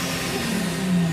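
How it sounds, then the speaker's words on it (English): Supercharged Infiniti G35 engine revving, a steady mid-pitched whine and drone that holds close and loud for about a second, with no voices over it. "G35 with a supercharger on it."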